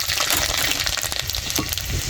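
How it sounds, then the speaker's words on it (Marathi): Garlic frying in hot oil in a village-style kitchen gives off a loud, steady hiss and sputter with scattered crackles, heard close up and alone for a couple of seconds. "आता लसूण टाकीते."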